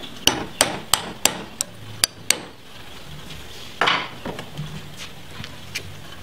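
Sharp metallic taps, about seven quick blows of a hammer on a punch tapping out a steering gear box retainer ring in a steady rhythm, then a scrape and a few lighter clinks of metal parts.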